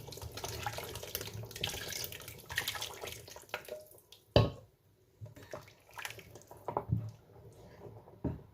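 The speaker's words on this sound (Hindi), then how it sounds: "अब ये जो मैंने आटे का घोल तैयार किया था ये डालूंगी, और इसको डालने के साथ दूसरे हाथ से हिलाती जाऊंगी" Flour-water batter poured into a pot of mutton nihari while being stirred by hand, wet splashing and sloshing near the mic, irregular bursts with a few sharp clanks and quieter pauses between.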